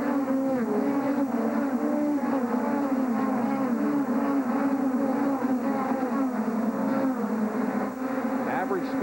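4-cylinder subcompact stock cars of the 1996 NASCAR Goody's Dash Series at Bristol roaring out of a turn, layered engine drones rising and falling in pitch as several pass, with a commentator talking over them.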